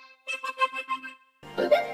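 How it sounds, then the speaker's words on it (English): Repeated hiccups run through a vocoder, making a short series of buzzy, pitched vocal blips in an uneven rhythm, followed by a denser, louder burst of processed voice. "I have the hiccups."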